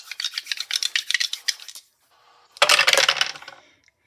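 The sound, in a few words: rolling two dice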